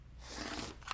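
A single short snip of scissors cutting cross stitch fabric, close and quiet, a brief crisp crunch lasting under a second with no voices.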